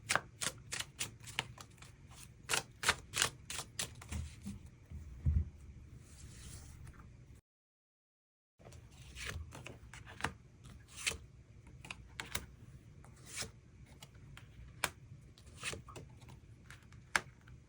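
Tarot cards are shuffled and drawn in a quiet room, with rapid crisp riffling flicks in bursts, a brief silent gap, then more scattered card snaps and slides close by.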